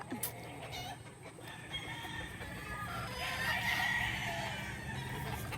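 A loose hen clucking on a poultry farm where White Kelso purebreds and crossbred pullets are kept, with steady clucks and fowl calls over a constant farmyard hum, mid-distance and moderately loud.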